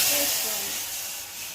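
Tamarind water poured into a hot tempering with curry leaves and turmeric for a Telangana-style rasam, giving a loud, steady sizzling hiss that fades gradually over a second and a half.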